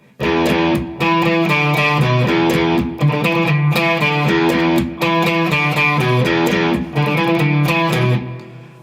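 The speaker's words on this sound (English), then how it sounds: "the bass part is really funky. So it sounds like this." A funky bass line played on guitar, a punchy riff repeating in short phrases with brief gaps between them. It is loud and close, with no voices.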